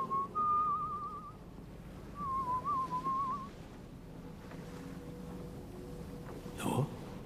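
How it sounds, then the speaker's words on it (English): A person whistles a wavering tune in two short phrases with a pause between, close and clear over a quiet background, followed by a brief sharp noise. "Instead, I'm whistling. That's all. Whistling."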